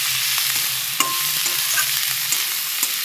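Coriander leaves being stirred into an egg and potato curry in a hot pan, with a steady soft sizzle and occasional scrape and clink of the spoon, no talking.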